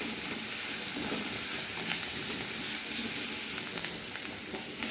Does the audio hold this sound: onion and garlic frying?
yes